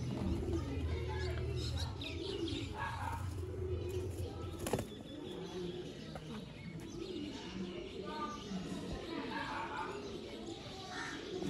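A breeder pair of Sialkoti pigeons coos softly and repeatedly at close range, with faint wing flaps and chirps, under steady background noise and someone speaking throughout.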